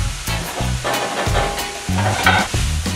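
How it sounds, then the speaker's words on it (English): Beef for spaghetti bolognese fries in a pan and is stirred, producing a loud close sizzle broken by scraping utensil strokes and clatter. "Let's give that a stir at the back there as well."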